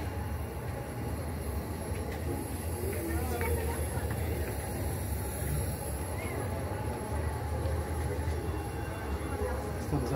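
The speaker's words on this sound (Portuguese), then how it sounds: "Locomotiva ali é Maria Fumaça, locomotiva se preparando para levar o pessoal para fazer um passeio." The Maria Fumaça steam locomotive waits to take passengers on a ride in Campos do Jordão, with a steady low rumble and occasional metallic clanks around the train, while people talk nearby.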